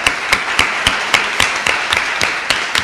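A small audience applauding a speaker at the end of a class session, a sparse run of distinct claps in a fairly regular rhythm, close and moderately loud.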